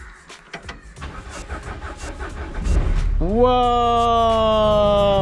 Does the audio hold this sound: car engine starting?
yes